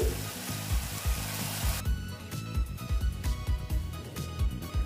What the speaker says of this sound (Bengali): দেখো এই যে কাঁকরোলগুলো দিয়ে দিচ্ছি